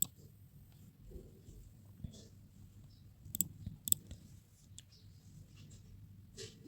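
Computer mouse clicks, a few sharp isolated taps spaced irregularly, close and fairly quiet over a low steady background hum while a certificate is uploaded on an online application form.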